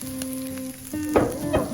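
Pork sizzles on a Thai mu kratha grill pan during a campsite meal at Phu Chi Fa in Chiang Rai, with close, steady frying crackle and a few louder spits and stirring noises.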